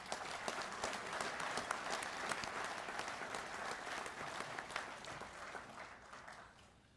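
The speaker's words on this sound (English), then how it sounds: "giving these fine Legionnaires a round of applause." A convention audience of Legionnaires applauds Distinguished Service Award recipients, producing steady, sustained clapping from a large crowd that carries on for seven seconds and tapers slightly at the end.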